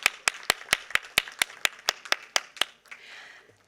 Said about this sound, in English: please join me in welcoming him with a round of applause